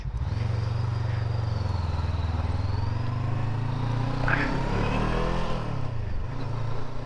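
A Voge 500DS motorcycle rides along a road, its engine humming steadily up close with a loud mid-range drone, then shifting pitch as it slows and picks up speed again.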